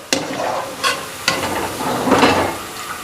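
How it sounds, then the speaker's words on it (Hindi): Browned fried onions being lifted out of hot oil for an achari chicken karahi, loud sizzling with several sharp scraping clanks of a slotted spoon against the pan. "प्याज हमारी देखिए कितनी अच्छी सी माशाल्लाह से ब्राउन हो गई है। इसको अब हम ऑयल से निकालेंगे।"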